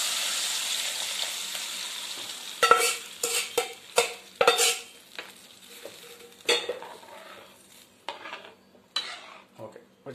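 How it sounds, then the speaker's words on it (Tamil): Dried fish and brinjal fry in oil in a pan, a soft steady sizzle running under a series of sharp stirring scrapes and utensil clinks against the pot. "கருவாடு லைட்டாக எண்ணெயில் ஃப்ரை ஆகணும்"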